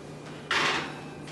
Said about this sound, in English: close the oven door